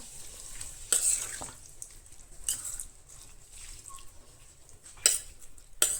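A spoon stirring ingredients for a simple Goan vegetarian thali in a home kitchen: faint, soft scraping with a few sharper clinks and taps spread unevenly, quiet and close.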